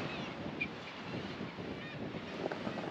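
Gusty wind buffets the microphone on a coastal cliff top near Howth, Dublin, as a steady broadband roar throughout, with brief distant honking bird calls above it.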